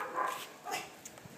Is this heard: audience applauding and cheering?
no